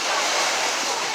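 Steady broadband wash of ocean surf rolling in close by at a beach, washing over feet, with a continuous hissing rush and a touch of wind, no talking.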